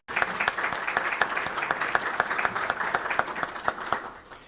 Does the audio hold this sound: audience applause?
yes